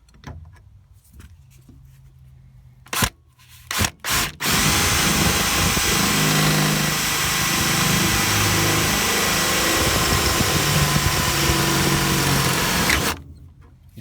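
A power drill bores through the metal body of a VW T25 van, with a few sharp clicks and brief bursts before a steady, loud, high-pitched whine grinds on for about nine seconds and then stops.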